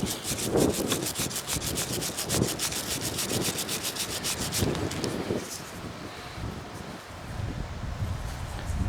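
Steady scratchy rubbing of dirt off a coin found in a field, close and continuous, with short repeated scraping strokes over several seconds and no talking.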